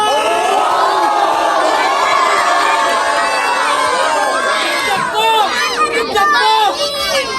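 Crowd at a rap battle hollering and shouting together in a loud, dense roar, with scattered individual yells and whoops rising above the mass toward the end.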